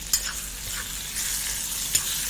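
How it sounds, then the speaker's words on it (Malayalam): Onions and tomatoes sauté in a pan for a Malabar sardine fish curry, giving a steady soft sizzle with a few sharp stirring scrapes, close and alone. "നന്നായിട്ട് വഴറ്റിയെടുക്കുക."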